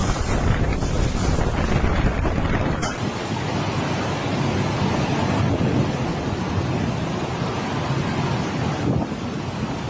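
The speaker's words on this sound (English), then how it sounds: "A violent tornado appeared suddenly, spinning like a giant monster." Violent tornado winds roar loudly and continuously, buffeting the microphone with heavy broadband rushing and gusting, a sudden surge near the start, with no voices.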